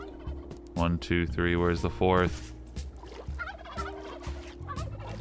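Turkeys in Minecraft gobbling in rapid rattling bursts near the listener, someone talking over them, with steady background ambience.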